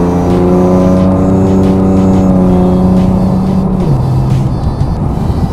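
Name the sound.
car engine revving with belt squeak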